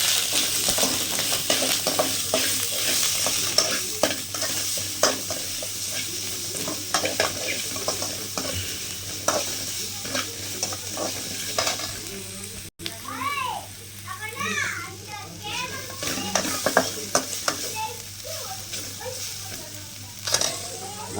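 Ginger and garlic sautéing and being stirred in a pan for a chicken liver fry, with a steady sizzle and repeated scraping strokes throughout, and children's voices faintly in the background.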